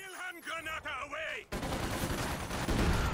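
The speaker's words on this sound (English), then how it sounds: "Now let's lob said grenade." Grenade explosion in the World War II strategy game Company of Heroes 2, a sudden loud burst that follows a brief stretch of other game sound and then rumbles on with crackling debris to the end.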